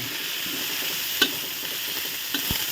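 Ground pork stir-fried in a pan for a Thai-style small rice noodle stir-fry, with a steady close sizzle throughout and a few sharp scrapes and clanks of a utensil against the pan.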